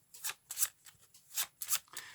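A deck of E.S.P. cards shuffled by hand close up: five quick riffling bursts in an uneven rhythm, crisp papery flutters separated by short pauses, alone without talk.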